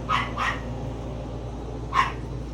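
Dogs in kennels below a screened porch give three sharp barks, two in quick succession and then a third after a pause, heard from a moderate distance over a steady low background hum.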